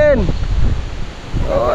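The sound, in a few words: strong wind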